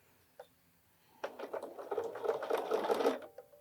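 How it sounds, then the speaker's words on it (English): A Bernina sewing machine fitted with a walking foot stitches through soft cuddle fabric for a scarf. After a brief click, a steady, fast, close-up run of stitching sounds for about two seconds and then stops. "now securing this is just bringing that foot back down again and continuing to sew"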